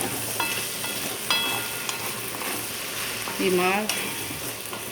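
Ivy gourd pieces frying in a pan give a steady soft sizzle with occasional scrapes and clinks of stirring, close and fairly quiet, with a brief spoken word.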